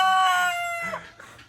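Turkey calling at a farm animal sanctuary, a loud, close, quavering harmonic call with a short follow-up note.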